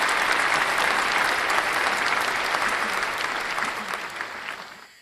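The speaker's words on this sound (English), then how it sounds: "I guess we have to give a clap for that." Sustained applause from a crowd, a steady wash of many hands clapping at moderate loudness that slowly thins and stops near the end.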